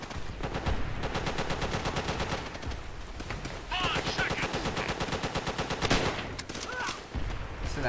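Machine gun fire in the Call of Duty: World at War campaign, long rapid bursts of rattling shots that run almost continuously at close range with brief pauses between them.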